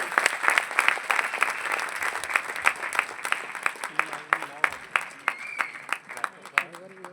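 Applause and rhythmic clapping from an audience at an Amway business event in Prayagraj, sharp individual claps standing out over a steady mass of hands, continuing throughout at moderate distance with some voices underneath.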